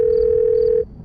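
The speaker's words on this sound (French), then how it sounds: "Hein? Mon téléphone? C'est drôle." A single steady telephone tone sounds loud and close for just under a second, then cuts off abruptly, in an Undertale comic dub.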